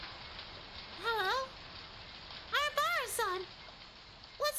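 Steady hiss of a heavy rain downpour fills the background of a Higurashi scene, with a voice breaking in over it in short emotional bursts.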